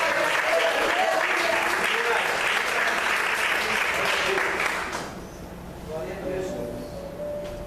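A church congregation claps and cheers loudly for about five seconds, then the applause drops off abruptly, leaving a quieter room with faint voices.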